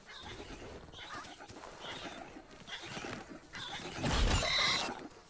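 In the survival game The Isle, small birds chirp in scattered bursts over a busy outdoor ambience, with a louder rustling swell near the end.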